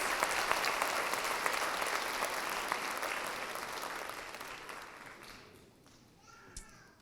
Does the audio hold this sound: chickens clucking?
no